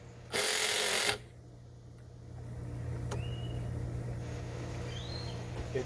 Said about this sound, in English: It tries, but the hammering effect just kind of messes it up.